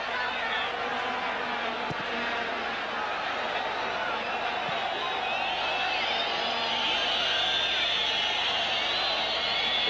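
A football stadium crowd at the 1991 Copa America, Paraguay against Venezuela, a dense, steady distant roar and murmur of restless spectators filling the whole stretch, with no distinct chants rising above it.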